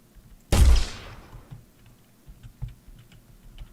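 Gunshot in a game jam video game, one sharp loud blast near the start followed by quieter clicking and light tapping sounds.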